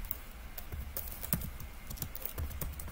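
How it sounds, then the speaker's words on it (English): Typing on a computer keyboard during a Windows setup session, a steady run of soft, close key taps with a few sharper strikes, no talking. "So now you're going to type"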